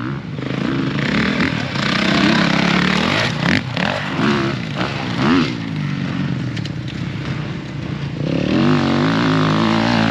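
A supercross motorcycle's engine drones loudly and steadily, rising and falling in pitch as the rider works the throttle, with a continuous rough rumble throughout.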